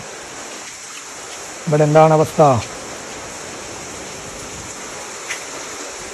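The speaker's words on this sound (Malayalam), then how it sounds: "ഇവിടെ മഴ കിട്ടുന്നുണ്ട് അടിപൊളിയായിട്ട്" Steady broadband hiss of midday rain falling outdoors, continuous and even throughout, with a person briefly speaking over it near the middle.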